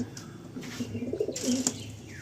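A pair of Andhra breed pigeons offered for sale coo close by in soft, low, repeated phrases, with a faint chirp near the end.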